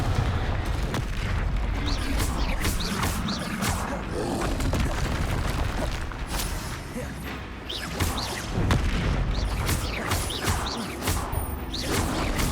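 Confringo blasting-spell explosions in the game Hogwarts Legacy go off as a dense, loud barrage of booms and crashes with whooshing bursts, while a voice calls out spells underneath.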